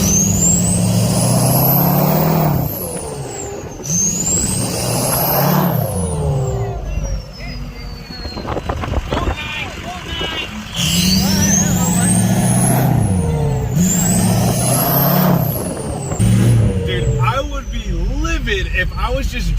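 Big trucks cruise slowly past at a truck show in Joplin, Missouri, engines rumbling loud and close as air brakes hiss and chirp repeatedly, with people talking throughout.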